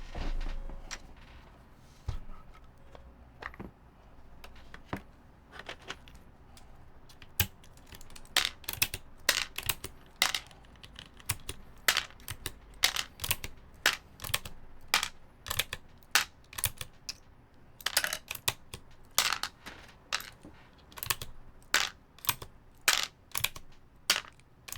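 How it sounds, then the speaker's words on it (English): Keycaps pulled one by one off a mechanical keyboard make a long run of sharp plastic clicks and snaps, sparse at first and then quick and irregular, close and fairly quiet. "Gotta pull out a bunch of keycaps."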